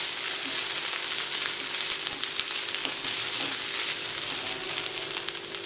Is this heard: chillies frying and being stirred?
yes